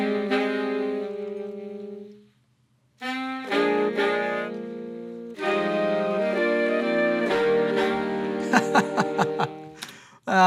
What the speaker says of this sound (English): We have 10 layers of saxophone just in the intro of the chorus